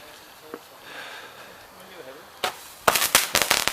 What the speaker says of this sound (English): your fireworks are faulty.